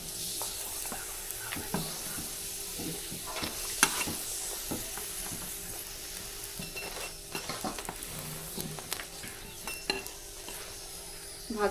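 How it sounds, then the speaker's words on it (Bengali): Spinach paratha fries in a little oil on a pan, a soft, steady sizzle broken by scattered clinks and scrapes of a utensil, close and fairly quiet. "এবার পরোটা ভাজার জন্য একটু তেল দিয়ে দেবো।"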